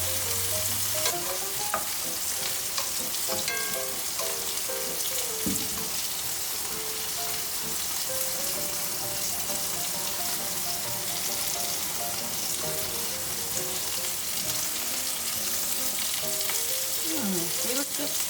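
Keto french fries frying slowly in a pan, a dense continuous sizzle of hot oil that stays loud and even throughout, with faint tonal background sounds underneath.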